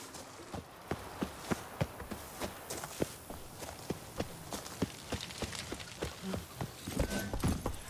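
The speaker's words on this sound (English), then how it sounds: "Whoa there, Roach." Horse hooves clip-clop at a steady walking rhythm in The Witcher 3, sharp repeated strikes close by and fairly loud, with a brief livelier patch near the end.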